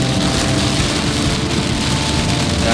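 Heavy rain drums on a car driving along a narrow road beside the Selokan Mataram canal. The wash of rain and road noise is loud, dense and unbroken, with a low engine rumble underneath and no voices.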